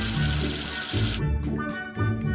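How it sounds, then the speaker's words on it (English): Cartoon water running to rinse soap off during a children's counting lesson, a steady broadband hiss for about a second before cutting off, followed by soft musical tones under the rinse. "Wash away the soap with water."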